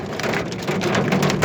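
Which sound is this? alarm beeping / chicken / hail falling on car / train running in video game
hail falling on car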